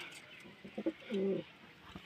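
A single soft, throaty pigeon coo rises briefly from a quiet background, preceded by a few faint bird sounds.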